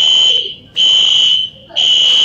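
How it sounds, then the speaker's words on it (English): A fire alarm rings loudly in repeated electronic bursts, two long tones with a short gap between them, close and piercing. "the fire alarm went off"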